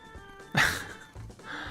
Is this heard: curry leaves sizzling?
no